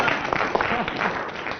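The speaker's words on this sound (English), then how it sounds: "I thought that deserved a round of applause" Studio audience applause on a radio comedy panel show, a burst of clapping from a live crowd mixed with some laughter and voices, fairly loud and brief.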